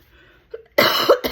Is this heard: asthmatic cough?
yes